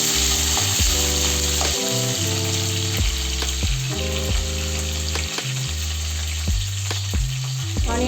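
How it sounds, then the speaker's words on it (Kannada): Sliced onion roasting in a hot pan for khichdi, a loud steady sizzle and crackle of frying with occasional stirring, close up and continuous, with music playing underneath and no talk. "ಆನಿಯನನ್ನು ರೋಸ್ಟ್ ಮಾಡಿಕೊಳ್ಳೋಣ"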